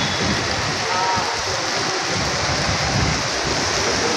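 Heavy rain falls in the city of Dhaka, a loud, dense and unbroken rushing hiss that fills the whole moment without pause.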